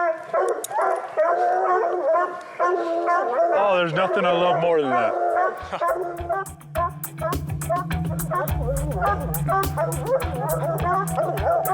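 Hunting dogs bay, howl and yip excitedly after treeing a cat in northern wilderness, loud and close, with someone talking partway through and continuous barking underneath.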